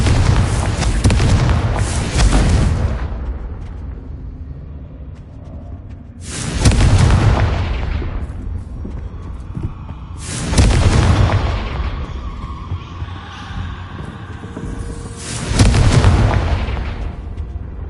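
Four loud, booming blasts of the Confringo spell in Hogwarts Legacy, each a sharp explosive burst with a rumbling tail, spaced several seconds apart with a quieter game ambience between them.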